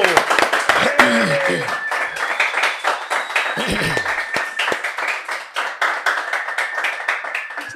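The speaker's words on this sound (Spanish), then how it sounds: "Y quiero que recibamos con un fuerte aplauso." A live studio audience claps for a guest on a podcast show, with sharp, fairly close handclaps in an uneven rhythm and voices speaking over them.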